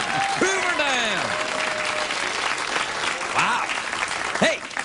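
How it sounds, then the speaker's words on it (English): A late-night talk show studio audience applauds a pun during the host's monologue, a sustained wash of clapping with whoops and laughter over it, as the host speaks. "an applause break on a Hoover Dam pun"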